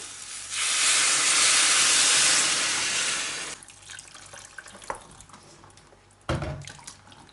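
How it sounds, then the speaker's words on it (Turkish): Water gushes steadily into a soup pot for a few seconds, then stops, followed by faint clinks and one sharp knock. "Çorbanın suyunu ekliyorum."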